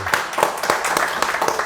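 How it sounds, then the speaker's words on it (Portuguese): Audience applause honoring Doctor Diógenes da Cunha Lima at a bar talk event, a short burst of mixed claps with crowd noise, moderately loud and close. "uma salva de palmas para o doutor Diógenes da Cunha Lima"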